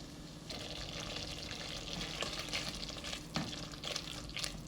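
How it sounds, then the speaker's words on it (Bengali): Cardamom with ginger, garlic and cinnamon stirred and frying in ghee, a steady close sizzle with scraping spoon strokes at irregular intervals and no talk. "এলাচি আছে, সেটা দিয়ে দিচ্ছি প্রথমেই। দিয়ে এটা একটু নেড়ে কষাতে হবে।"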